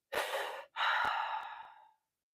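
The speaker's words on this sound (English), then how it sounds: "on your final one, on the exhale, let all of the air out" Two long, breathy exhales during a guided breathing exercise, the second held longer and slowly fading out, close and fairly quiet with no talking.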